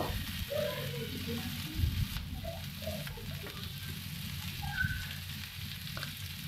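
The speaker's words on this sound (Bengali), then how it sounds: "ভালোভাবে নাড়বো।" Chopped onions sizzle softly as they fry in a pan for an egg curry, and a spoon stirs them now and then with scrapes and light taps, all quiet and close up with no talking.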